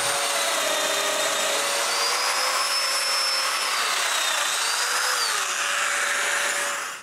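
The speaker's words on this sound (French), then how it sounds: "puis je perce les mortaises" A domino joiner plunges into wood to cut mortises for a bathroom cabinet build, a loud sustained high-pitched motor whine with shifting tone as the cutter bites, running steadily for several seconds before winding down.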